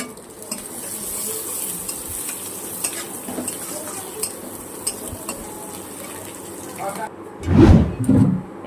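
Chopped ginger, garlic and green chilli frying in a pan: steady hissing sizzle with occasional utensil clinks and stirring scrapes, ending in a louder burst of clattering and a voice speaking near the end.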